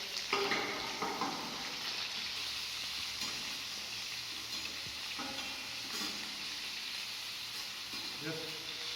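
Chicken pieces searing in a hot pan for murgh methi korma, a continuous oily sizzle broken by scrapes and clatters as the meat is stirred and turned.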